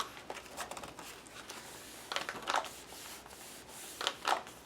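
Wet, glue-soaked paper pages of an altered book are folded by hand, giving faint, soft rubbing and crinkling sounds in a few brief bursts against a quiet room.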